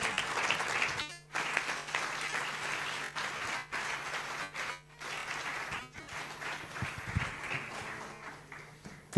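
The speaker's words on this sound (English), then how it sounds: "Ladies and gentlemen, a big round of applause for our chief guest" A symposium audience gives a standing ovation to the chief guest, a sustained round of dense, continuous clapping that fills the room, thins out briefly in places and then tapers toward the end.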